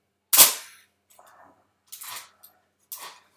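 Large metal-foil focal-plane shutter on a Kiev 88 medium-format camera, firing as sharp close mechanical clicks: one loud snap followed by a fainter rustle, then two further distinct clacks, all in quiet.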